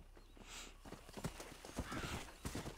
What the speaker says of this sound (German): Dann reiten wir ein bisschen weiter weg. Komm, Pferdchen.